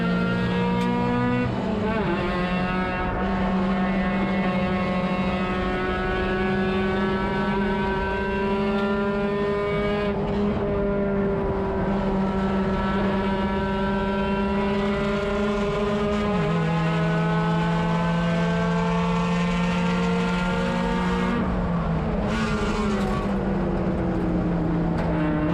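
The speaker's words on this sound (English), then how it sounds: "Lamar pushing the RX-7 very, very well through turn number 12 there" A Mazda RX-7 Spec race car engine at speed on a circuit through turn 12, a loud sustained rotary drone with a gear-change dip partway, close and steady with no talk.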